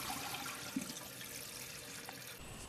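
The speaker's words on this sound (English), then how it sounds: "As you activate the flushing mechanism, the water will drain out of the top tank into the bowl," A toilet flushes as water drains from the tank into the bowl, a faint, steady rushing wash with a small clunk early on and no speech.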